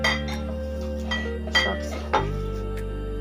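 Egg chop mixture stirred with onion and coriander leaves in a bowl: a few sharp clinks of a utensil against the dish over a low, steady hum.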